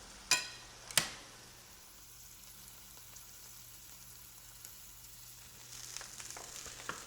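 Garlic fries in a pan until it turns crispy brown, giving a soft, steady sizzle. Two sharp clicks of long cooking chopsticks come first, and the frying grows slightly livelier near the end.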